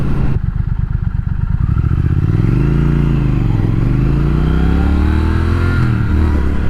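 A 2020 Triumph Speed Twin motorcycle accelerates hard, its loud engine note rising and falling through revs as the throttle opens, close and continuous throughout with no talking.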